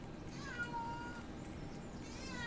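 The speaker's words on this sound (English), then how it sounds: "Yeah, that's my cat." A house cat meows a few times, faint and close, under a steady background hum from a running flight simulator session.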